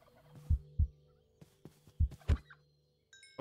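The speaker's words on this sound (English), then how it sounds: "Oh, turkeys. Turkeys." Turkeys in RLCraft, a modded Minecraft, give several short, loud, close gobbles in an uneven burst, separated by brief quiet gaps with a few soft thunks.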